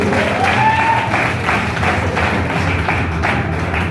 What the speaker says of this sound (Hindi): इसके लिए तालियां होनी चाहिए